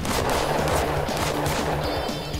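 Gunfire in the game Totally Accurate Battle Zombielator, a rapid run of loud shots in quick rhythmic succession, dense and close, with no voices.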